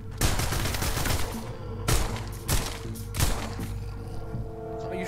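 Gunfire in a virtual reality zombie apocalypse game set in a missile bunker: loud, echoing shots in a dense stream, with several heavier bursts standing out over constant noise, no talking.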